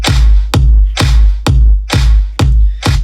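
Crisp electronic dance-track claps land on a steady beat every half second, six hits over a booming kick drum, loud and upfront with no voices.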